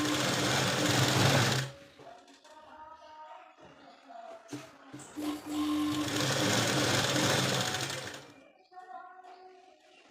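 A sewing machine runs a loose stitch along a puff sleeve, its needle chattering in two long bursts with a quiet pause between them, while someone talks over the work.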